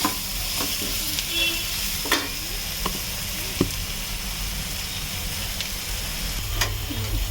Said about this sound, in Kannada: ಇದು ಈರುಳ್ಳಿ ಇದು ಎರಡು ನಿಮಿಷದಲ್ಲೇ ಫ್ರೈ ಆಗಿಬಿಡುತ್ತೆ